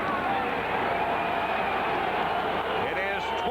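A football stadium crowd at an NFC Wildcard game between the Giants and Eagles roars steadily after a touchdown, a dense and loud wall of cheering that holds without pause throughout.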